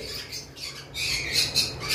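A pet lovebird or cockatiel at a bird farm gives a few sharp, raspy squawks in quick succession, close by and moderately loud, with no talking.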